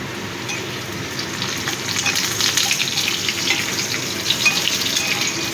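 Sweet potato pieces frying in a pan give a steady, close sizzle with soft stirring scrapes throughout, no voices over it.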